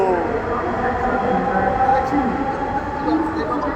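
A metro train pulls out of a station in Dhaka, its steady rumble and rail noise holding at an even, close level for a few seconds with no talk.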